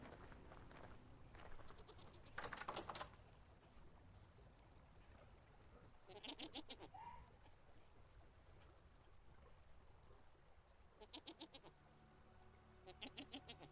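A goat in Vintage Story bleats in several short, wavering bursts, with quiet gaps between calls, over a low ambient game background.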